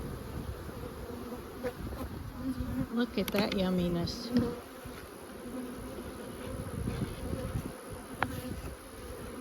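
Honey bees hum steadily around open beehive frames dripping with honey, a close, continuous buzz with a few louder passes near the ear, while a person briefly speaks over it.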